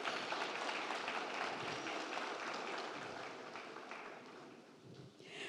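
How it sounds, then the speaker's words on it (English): Faint, distant applause from an audience at a school district board of trustees meeting honoring a teacher, a continuous wash of clapping that slowly thins out toward the end. "Let's give her another round of applause."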